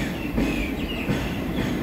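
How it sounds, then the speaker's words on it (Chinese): An E409 electric locomotive hauling a six-car Disney-liveried Formosa Express tourist train in Taiwan passes by, giving a steady, loud rumble of rolling wagons with faint wheel clatter, alone with no talk. "电头来了"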